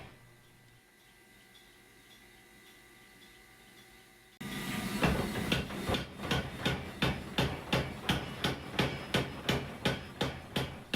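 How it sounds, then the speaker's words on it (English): Hot steel bar being forge welded and drawn out on an anvil: after a quiet stretch, a loud, evenly paced series of sharp ringing hammer blows begins and continues to the end. "So now I'm just going to continue to weld it, draw it out."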